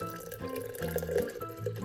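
Water poured from a measuring cup into a jar of leftover sourdough starter, a close, steady liquid trickle and splash lasting about two seconds with no talk over it.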